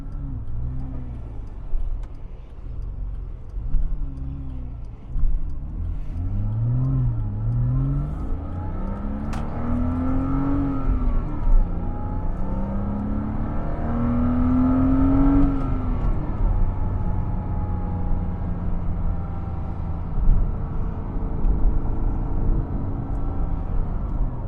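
A 2006 Porsche Boxster roadster's engine accelerates through the gears, heard from inside the car. Its rising whine climbs and drops at each shift over a steady low rumble and road noise.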